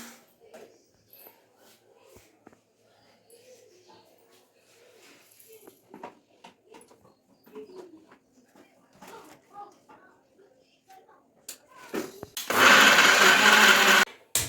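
A mixer grinder whirs loudly for a couple of seconds near the end, grinding masala paste for potato and green pea sambar, after a stretch of quiet kitchen clatter.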